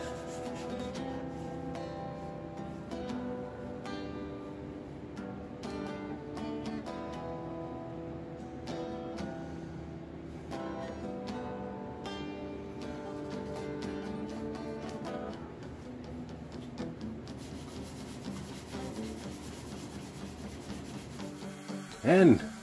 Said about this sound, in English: I am sanding everything to 180 or 220, and it takes forever and it sucks.